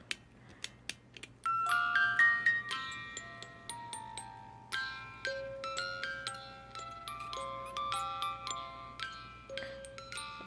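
Halloween music box shaped as a skeleton couple in a graveyard with pumpkins, plucking a Wizard of Oz tune as a clear, tinkling melody of bright metallic notes, close and alone with a soft mechanical hum beneath.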